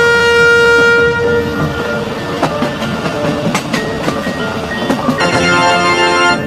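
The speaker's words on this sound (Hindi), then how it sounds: "तभी ये ट्रेन यहाँ से जाने लगती है।" A train pulls away from a station with a loud, steady rumble and rhythmic clatter of wheels over rail joints, and a long horn blares at the start and again near the end.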